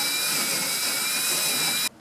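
A power drill bores out the side of a 3-gang electrical box during a sub panel install in an outbuilding shop: a close, steady high whine that runs nearly two seconds, then cuts off abruptly.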